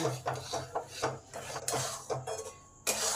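Kheer with freshly grated coconut is stirred in a pan, giving repeated close scraping and rubbing strokes in a steady rhythm with soft knocks of the spoon against the metal.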